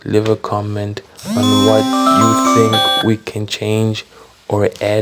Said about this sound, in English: Sorry for that. That was my alarm.